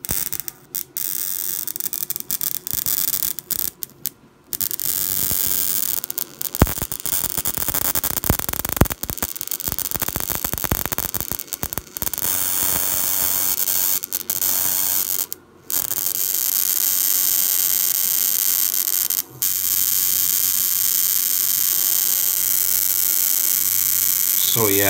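High-voltage electric sparks crackle and buzz almost without a break, a loud, harsh sizzle over a steady electrical hum, with a few brief gaps.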